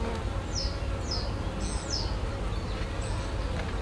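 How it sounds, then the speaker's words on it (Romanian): A low, constant hum of buzzing honeybees fills the background, while a few high bird chirps sound intermittently above it. "Și albinele sunt foarte multe."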